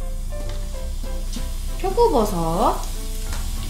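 Shredded radish, shiitake mushrooms and kelp stir-frying over high heat in sesame oil: a steady, close sizzle that runs throughout while someone talks over it.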